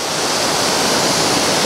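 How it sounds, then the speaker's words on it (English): Melincourt waterfall in South Wales roars as a steady, loud, unbroken rush of falling water, heard up close with no other sounds. "So Melincourt Waterfalls in South Wales."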